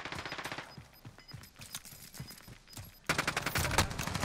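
Gunfire in the battle royale game Warzone: bursts of rapid shots near and loud, a sparser stretch of scattered reports, then a dense, heavy volley at the end, with no talking.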